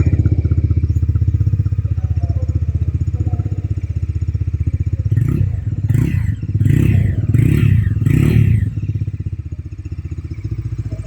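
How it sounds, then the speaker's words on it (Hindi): Bajaj Dominar 250 motorcycle idling through its dual barrel exhaust, a loud, deep, bassy steady thrum broken by a run of four or five quick throttle blips in the middle before settling back to idle. "ये है इसका डुअल बैरल एग्जॉस्ट, जिसका एग्जॉस्ट साउंड काफ़ी लाउड है, काफ़ी बेसी है।"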